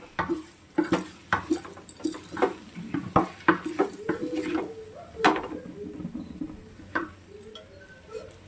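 A spoon stirs and scrapes chili powder, garam masala and mutton masala in a metal cooking pot, giving close, irregular clinks and scrapes that repeat steadily, with no talking.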